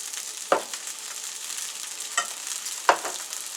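Peas hit hot oil in a frying pan with a steady bright sizzle, broken by three sharp clattering stirs or scrapes, close and fairly loud, with no voices.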